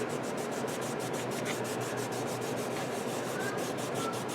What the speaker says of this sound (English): And I'll give it a good rub here. Make sure I get all that glue off of there.